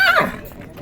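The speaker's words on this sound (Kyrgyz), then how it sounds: "бул жерде азыр аттар, тайлар бар жок эле аралашты" A horse gives a single sharp neigh, close and loud, then falls away into quiet; the setting is the Bishkek horse market, where horses and foals are traded.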